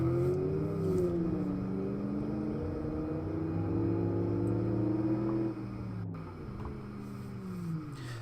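A Legrand car in BeamNG.Drive traffic drives along steadily, its engine a smooth continuous drone with shifting tones that ease down slightly near the end.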